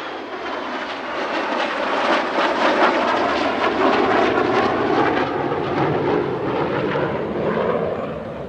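A MiG-17 jet fighter at the Barksdale Defenders of Liberty airshow roars past, a loud, broad rushing jet noise that swells and holds steady with a slight pitch sweep as it passes.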